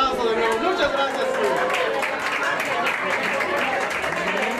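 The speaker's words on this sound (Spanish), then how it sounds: "Fuerte el aplauso de nuevo, muchas gracias." At a singing contest final, a crowd claps and cheers continuously, with chatter and voices mixed into the steady, dense applause throughout.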